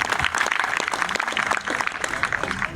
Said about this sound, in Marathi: याच्यासाठी मला वाटतं एकदा जोरदार टाळ्या झाल्याच पाहिजे.